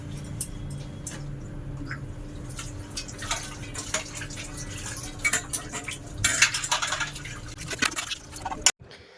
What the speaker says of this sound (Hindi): एक एक करके बर्तन साफ कर देती हूँ